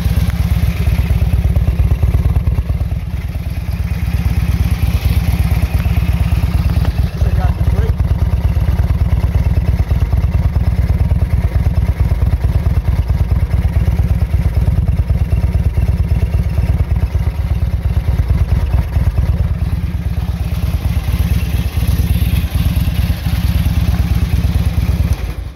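A 2006 Harley-Davidson Electra Glide with an 88 cubic inch V-twin engine runs at a steady idle throughout, its low, dense rumble constant and close.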